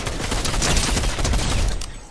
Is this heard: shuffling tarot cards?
no